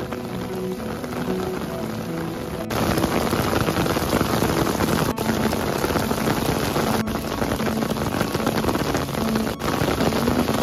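Rain pours steadily on trees in Pallikkunnu, a loud continuous hiss of falling drops, with a few sharp clicks breaking through.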